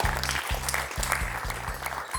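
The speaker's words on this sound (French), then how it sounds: "Et ça s'applaudit très très très très fort, ça." Studio audience applauding a quiz show contestant, a steady patter of clapping over a pulsing low musical beat that repeats about twice per second.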